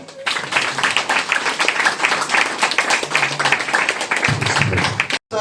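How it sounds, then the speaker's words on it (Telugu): An audience claps at a gathering celebrating a doctorate, dense, continuous and fairly loud applause that carries on for several seconds before cutting out briefly at the end. "అందరూ క్లాప్స్ కొడతారా?"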